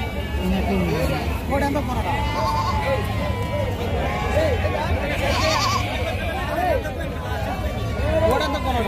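Goats and sheep at a busy Friday livestock market bleat repeatedly amid a constant crowd babble, with people talking nearby throughout.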